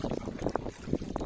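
Oars splash and dip in the water with soft, irregular strokes as a rowboat is paddled, over gusty wind buffeting the microphone outdoors.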